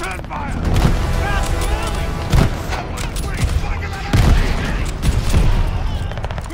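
Battle gunfire rattles in Call of Duty: Vanguard at El Alamein, 1942, repeated loud sharp shots and heavier booms in irregular bursts, with battlefield voices mixed in.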